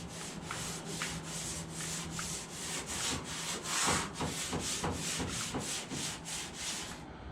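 Rag wiping paint stripper off the body of a VW Beetle, a steady series of rhythmic rubbing strokes at close range, with no talking.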